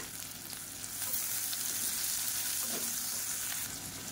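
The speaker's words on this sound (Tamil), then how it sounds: "வெங்காயம் வதங்குறதுக்கு உப்பு சேர்த்துக்கலாம்" Onions frying in oil with slit green chilies and salt for a Tamil chutney, a steady close sizzle that swells slightly after the first second, with a faint utensil scrape, no talking.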